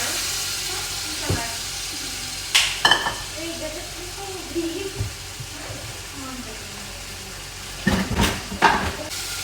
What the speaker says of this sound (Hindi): गाइस आपको नज़र आ रहा होगा ये मसाला देखिए पुलाव का भून रहा है।